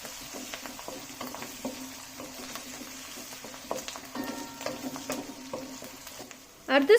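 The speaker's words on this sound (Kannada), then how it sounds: "ಚೆನ್ನಾಗಿ ಫ್ರೈ ಆಗಲಿ." Dried red chilies and asafoetida frying in hot oil for a tempering, a faint steady sizzle with light stirring scrapes and a louder clatter at the end.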